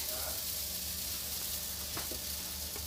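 A hotcake frying in a pan gives a steady, fairly quiet sizzle that holds throughout, with a few small clinks or scrapes near the end.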